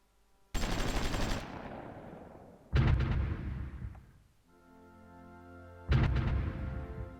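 Artillery bombardment in the Supreme Ruler Ultimate war game: three heavy booming blasts with sharp onsets that tail off into rumbling decay, loud and spaced a few seconds apart, with a humming tone between the second and third.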